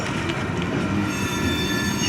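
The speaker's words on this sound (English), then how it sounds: "The UP train is coming off of the Harrisburg sub, running to the yard." Union Pacific manifest freight train entering a yard, loud continuous rolling rumble with sustained high-pitched wheel squeal over it, close by and steady, no talking.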